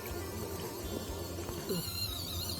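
A steady churning mechanical whir of a small washing machine agitator, constant and close, with faint sloshing throughout.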